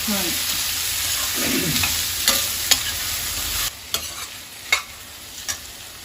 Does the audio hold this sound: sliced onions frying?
yes